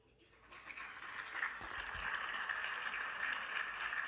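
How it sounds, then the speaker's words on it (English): Applause swells from a quiet start into a steady wash of clapping and crowd noise at a hockey game, heard faint and distant through the arena. "They get some applause."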